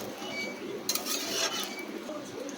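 A spoon scrapes and clinks against a kadai while chicken curry is stirred, with a few sharp metallic knocks over soft bubbling and a low voice in the background.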